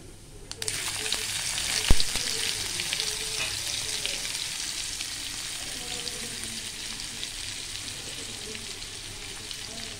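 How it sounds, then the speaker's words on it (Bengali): Cumin and chopped onion fry in oil for an egg curry, a loud, steady close sizzle that flares as the ingredients hit the pan, with occasional clinks and stirring scrapes. "ওই তেলের মধ্যে আমি জিরে, আর দেব হচ্ছে পেঁয়াজ কুচি।"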